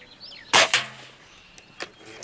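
A Beeman Silver Kodiak X2 pellet rifle fires one sharp, close crack, followed shortly by a softer mechanical click and a faint ringing tail, then a few quieter clicks in an otherwise quiet setting.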